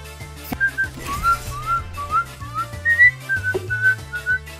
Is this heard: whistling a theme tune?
yes